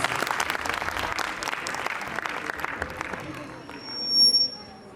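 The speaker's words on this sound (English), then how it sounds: "So, round of applause for Little Tiny Tots." An audience at a kindergarten annual function applauds young performers after a dance, a sustained wave of clapping with crowd murmur that fades toward the end, where faint voices and a brief high tone appear.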